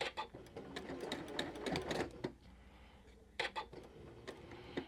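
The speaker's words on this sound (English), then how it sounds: "then I take it to my sewing machine and I add probably 2 or 3 stitches" A sewing machine runs in short bursts with a rapid mechanical clatter of stitching, pausing briefly between runs, close by and fairly quiet.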